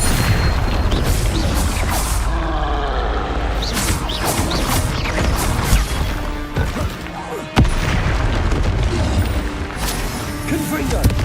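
Confringo explosive spell blasts in Hogwarts Legacy, heard as repeated loud booms and crashing bursts in a busy fight, with a voice shouting over the impacts.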